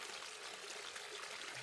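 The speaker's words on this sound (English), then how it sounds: "we're starting to get some streams crossing the way" Water runs in a small stream crossing a mountain hiking trail, giving a faint, continuous, even trickle and babble with no voices.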